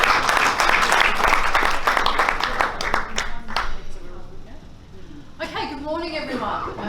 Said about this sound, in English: let's give Sarah a round of applause.